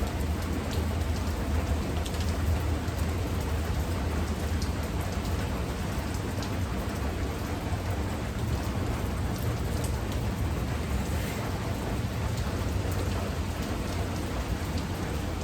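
Steady rain drums on a metal roof in a dense, continuous hiss with a low rumbling undertone, holding unbroken and fairly close for the whole stretch. No voices are heard.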